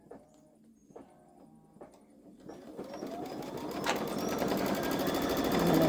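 A Babylock Solaris 3 embroidery machine stitches a design, starting with faint, sparse clicks and thumps and then building into a steady, dense mechanical whir that grows louder toward the end, with nobody speaking.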